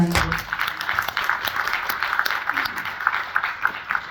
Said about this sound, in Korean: 감사와 격려의 박수 부탁드립니다